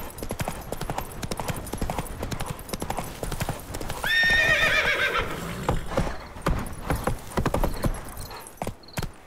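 A horse gallops and neighs in The Witcher 3 video game, with fast rhythmic hoofbeats throughout and a loud, clear whinny rising in the middle, close and prominent.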